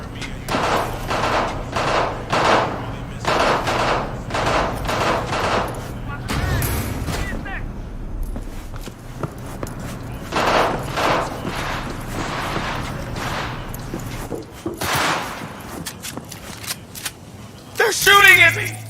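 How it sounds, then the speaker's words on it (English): Bursts of gunfire in a video game sound as repeated sharp cracks and thumps with mechanical clatter, mixed under frequent talking throughout. "They're shooting at me!"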